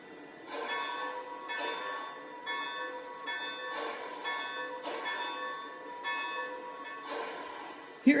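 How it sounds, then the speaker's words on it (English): A Lionel Legacy Southern Pacific AC-9 2-8-8-4 cab-forward model locomotive rings its bell in a steady, repeating clang, about one strike per second, clear and moderately loud with a metallic ringing tone. "Next up, here's the bell."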